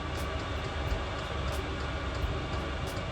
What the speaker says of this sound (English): You can hear the pump slowing down. And the fan slows down.